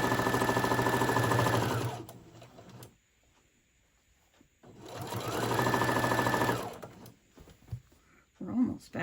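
A sewing machine stitches a lined tote bag in two loud, steady runs of close rapid whirring, each about two to three seconds long, with a quiet pause between them and faint handling noise and a brief voice near the end.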